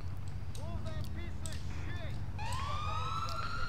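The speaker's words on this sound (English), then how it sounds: "it's just an ambulance going crazy, as usual." An ambulance siren in the game GTA IV with the LCPDFR mod wails and yelps, rising sweeps over a low engine drone, with someone talking over it.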